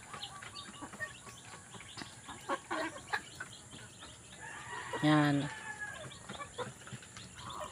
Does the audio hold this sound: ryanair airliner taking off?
no